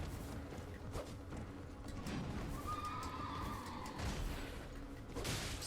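A horse in a video game gives a drawn-out whinny over a steady bed of game ambience, with faint hoof clatter and low rumbles around it, moderately loud and free of speech.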